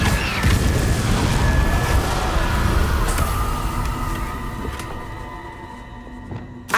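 A loud, booming fire spell cast in the video game Hogwarts Legacy, a dense roaring burst that slowly fades over several seconds and ends with a small crackle.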